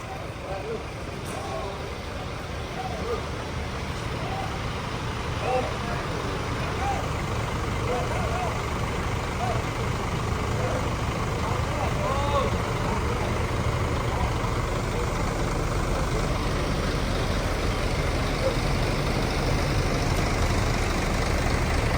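A Rosalia Indah intercity bus idles at a stop in Bekasi, its engine a steady low rumble running throughout, with indistinct voices and background bustle mixed in.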